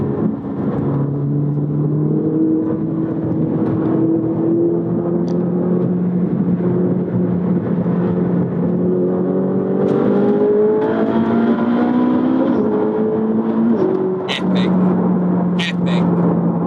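A sports car engine revs hard toward 9,000 rpm and climbs steadily through the gears on a track, a loud, continuous rising whine heard from inside the car, with a voice talking over it.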